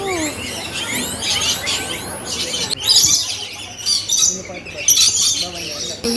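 Many small yellow-and-green birds chirping and squawking nearby inside an aviary in a busy, overlapping chorus, with brief human voices mixed in.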